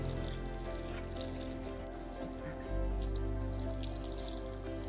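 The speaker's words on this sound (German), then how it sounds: "Und dann zu gießen." Water poured from a watering can or hose onto the soil around a freshly planted blueberry bush in a garden bed, a steady close trickle and splash that swells louder partway through, with no talking.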